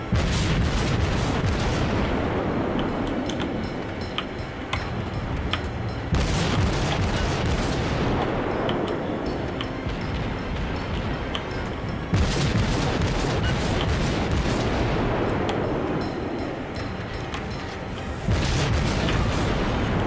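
Ship guns fire in the World of Warships video game as repeated heavy booming salvos roll into long rumbling decays, loud and close, recurring every few seconds over a constant low background.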